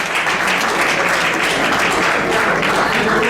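Sustained, dense applause from an audience at an awards ceremony in a hall, steady and loud throughout with no break, following a call for a warm round of clapping for an artist.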